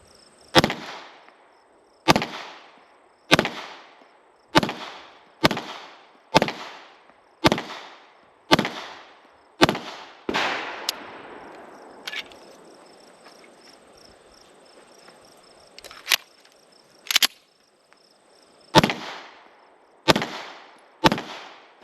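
A 9mm pistol fires outdoors in a string of sharp, loud cracks about a second apart, then a pause of softer handling noise before a few more shots, with insects chirping faintly behind.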